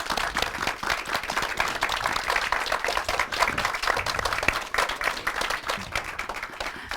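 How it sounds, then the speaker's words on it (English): An audience at a student election candidate Q&A applauds steadily for the full length, dense overlapping claps forming a loud, even wash of sound with no talking over it. "we should give them a massive round of applause for answering those questions"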